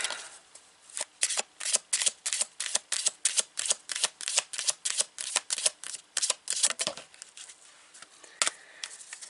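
Playing cards are riffle-shuffled repeatedly, a rapid series of crisp fluttering bursts in steady rhythm, close and clear with no talking.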